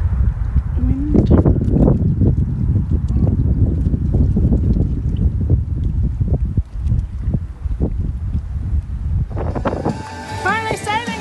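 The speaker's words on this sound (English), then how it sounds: "Wind." Strong wind buffets the microphone aboard a sailboat, a loud, continuous low rumble with gusty fluctuations, under a person talking, and higher creaking or whistling tones enter near the end.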